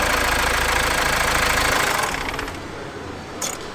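Faulty car engine of a vehicle still under warranty, idling loud and close with a rough, knocking vibration, then shutting off after about two seconds and leaving a quieter background.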